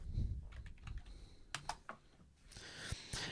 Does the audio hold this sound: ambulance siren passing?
no